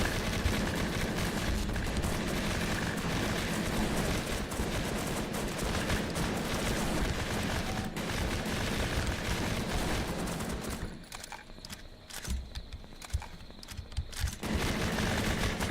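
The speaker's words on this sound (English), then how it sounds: "I may be shooting slower compared to Pan, but, you know, by comparison, I'm hitting a lot harder." Dense, continuous gunfire and grenade blasts from the video game Bad 2 Bad: Apocalypse, loud and sustained, briefly dropping away near the end before the shooting resumes.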